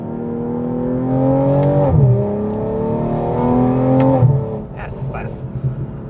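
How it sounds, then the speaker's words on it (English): A BMW M240i (G42) with a 3-liter turbocharged B58 inline-six accelerating hard from inside the cabin, its loud engine note climbing steadily through two gear changes before easing off, with a voice cheering over it. "So let's experience some acceleration."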